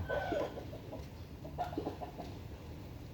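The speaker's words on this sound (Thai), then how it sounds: "เดี๋ยววันนี้ไก่ก็จะมาอีกตัวหนึ่งนะครับ" A chicken clucks softly at a distance in a few scattered calls over a steady low background hum, with stretches of quiet in between.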